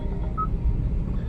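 A phone gives a single short electronic beep over a low rumbling background.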